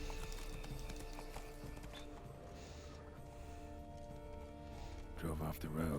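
Hooves of the horse Roach thud in a rhythmic gallop in The Witcher 3, a steady clip-clop over a continuous game soundtrack, with a faint creak and a voice near the end.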